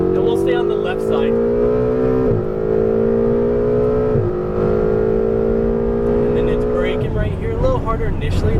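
A Ferrari 488 GTB on the Las Vegas Motor Speedway track, its engine droning loud and steady from inside the car, pitch climbing through the gears with two brief dips at shifts and a harder rise near the end.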